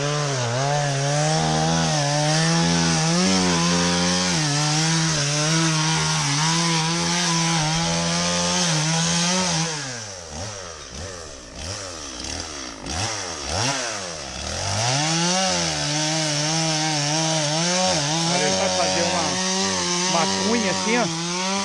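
Chainsaw cutting wood on a rainy rural property where fencing is being built, running loud and steady with a high-pitched whine that dips and strains under load mid-cut before revving back up.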